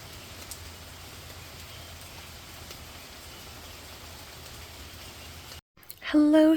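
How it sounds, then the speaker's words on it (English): Steady rain falling outside on a Monday morning, a soft continuous hiss of drops on surfaces, ending in a brief gap before a voice begins to speak. "It is raining outside."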